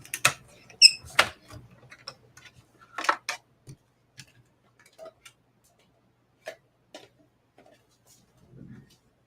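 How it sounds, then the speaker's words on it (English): Crank handle of a card-making die-cutting machine squeaking, with faint intermittent squeaks and ticks between clicks as it is turned, fairly quiet and close. "my handle still squeaks, even though I tightened it up this morning"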